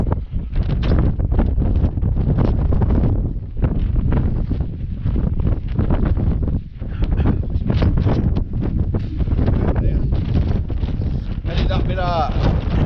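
Fierce 70mph wind on Kinder Scout pounds the microphone with a continuous, loud low roar and rumble for the whole stretch, drowning out nearly everything during wild camping.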